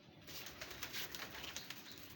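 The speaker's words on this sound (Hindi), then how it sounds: "वहाँ उमर भाई के भी कबूतर खुले हुए हैं, ये देखें उड़ाए भी हुए हैं" Pigeons coo softly in the open air while more birds flutter nearby, a faint, repeated cooing over a light background hush, with no one talking.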